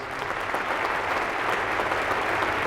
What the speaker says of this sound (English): please let's give everyone here a round of applause.